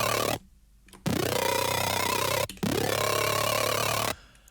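Two long, loud, buzzy dubstep synth bass notes made in Serum, with a gritty growl, separated by a brief cut, each stopping abruptly.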